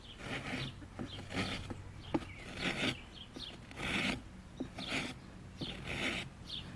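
A farrier's rasp files a horse hoof during a trim, giving repeated rough scraping strokes in an irregular rhythm, close and moderately loud, with brief knocks between passes and no talk.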